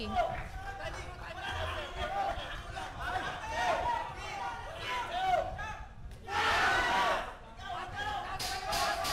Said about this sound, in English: And our crowd is very happy.